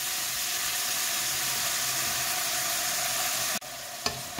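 Wild garlic flowers and fresh shrimp stir-fry in a pan with a loud, continuous sizzle and hiss that cuts off abruptly near the end, followed by a couple of light utensil knocks.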